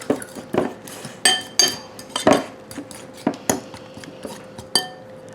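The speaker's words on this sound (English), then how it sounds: "Just going to mix this together." A utensil mixes chaffle batter in a bowl, giving irregular clinks and scrapes against the dish, close and fairly loud, with no speech.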